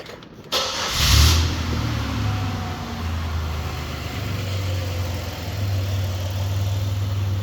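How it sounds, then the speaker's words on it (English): A car engine cranks briefly and catches, then settles into a steady, close idle with a low continuous rumble that holds for several seconds without talk. "I'm going to go ahead and start the vehicle and let it idle"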